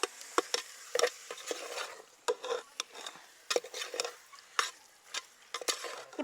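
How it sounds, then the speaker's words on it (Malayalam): Meat is stirred into masala in a pressure cooker: a spoon scrapes and clacks against the metal pot in irregular bursts, with a faint frying sizzle underneath, close and fairly quiet, with no talking. "ഇനി നമുക്ക് അതിലേക്ക് ഇറച്ചി ഇട്ട് കൊടുക്കാം. നന്നായിട്ടൊന്ന് ഇളക്കാം."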